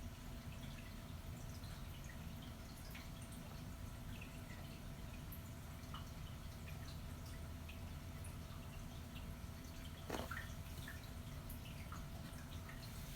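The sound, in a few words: reef aquarium tank water dripping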